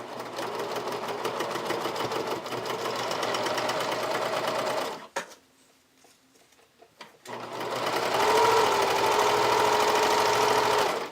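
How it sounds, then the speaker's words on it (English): A sewing machine stitches a wide, tight multi-step zigzag in mint thread with a fast, loud mechanical rattle. The stitching pauses briefly in the middle, then resumes at a steady pace. "I'm going to do a multi-step zigzag stitch"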